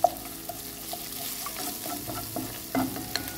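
Ginger slices fry and sizzle gently in a pan, with soft stirring scrapes and occasional utensil clinks, close up and fairly quiet with no talking.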